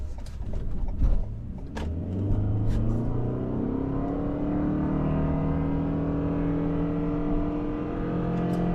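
A 2021 Toyota Sienna hybrid minivan accelerates hard, its engine note rising steadily in pitch as it gathers speed, a continuous drone heard from inside the cabin with a brief knock near the start.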